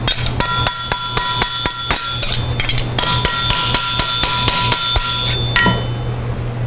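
Sharp, ringing metallic strikes of a hammer on an anvil in a metalworking shop repeat in a steady rhythm, each hit leaving a bright bell-like tone, loud and close.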